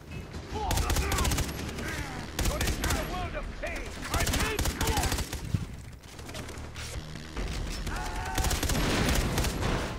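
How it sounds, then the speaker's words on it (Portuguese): Rapid crackling bursts of fireworks-style explosions in Far Cry 3, loud and dense, popping repeatedly across the whole stretch with brief lulls. "Fogos de artifício."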